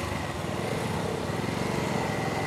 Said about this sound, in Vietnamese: Đây là cục máy 250, hai ống xả, nhưng mà nó sẽ gom nó lại thành một ống xả chung.